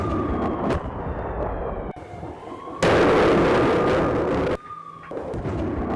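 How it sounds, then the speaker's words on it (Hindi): A Russian T-90M tank fires amid explosions in Marinka, Ukraine, with heavy booming blasts and a long, loud, sustained roar that starts and stops abruptly. "रूस ने टैंक से कई यूक्रेनी ठिकानों को दहलाया।"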